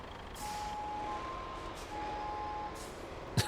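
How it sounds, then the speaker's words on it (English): Truck in the video game Roadcraft reversing, with a steady electronic backup beep repeating at an even rhythm over a low engine rumble, ending in a brief sharp clunk. "Can you back your truck to the back of my crane,"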